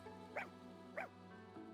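Dog in Fire Emblem Engage gives two short barks about half a second apart, then a softer third yip, all quiet over a steady musical background.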